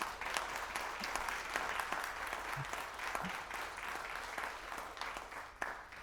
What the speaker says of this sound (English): Shall we give a round of applause?